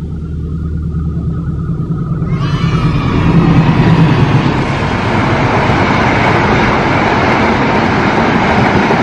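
A fast train thunders past the old Buaran station, a loud, close roar of wheels and rushing cars rising out of a low hum and staying heavy and continuous to the end.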